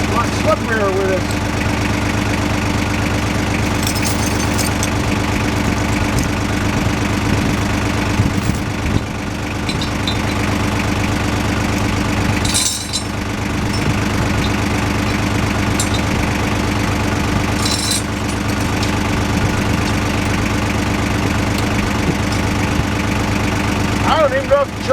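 A tractor engine idles steadily near a sawmill job involving a heavy oak log, a continuous close mechanical drone with a slight knocking texture that runs throughout, with a voice speaking at times over it.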